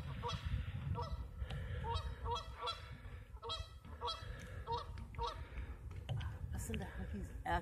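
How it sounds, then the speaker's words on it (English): A flock of geese honks repeatedly nearby, their calls overlapping in a loose, busy rhythm and echoing off a hillside. Someone speaks softly underneath. "It's like a big geese meetup."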